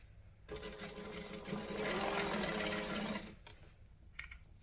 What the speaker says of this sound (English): And I'm going to chain stitch it because I can.